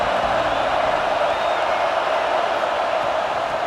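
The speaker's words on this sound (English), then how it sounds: "This crowd ready to make its presence known." Stadium crowd in the College Football 26 video game, a constant loud roar of massed voices holding steady for the whole stretch, with faint whistle-like cries rising briefly above it.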